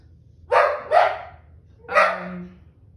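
A dog barks close by in a home, two quick sharp barks followed by a longer third bark that trails into a low whine, loud and alone over a quiet background.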